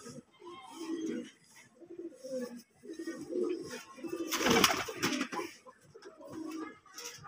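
Pigeons from an old household bloodline coo repeatedly in soft, rhythmic bursts nearby, with a brief loud rustle or wing flutter partway through.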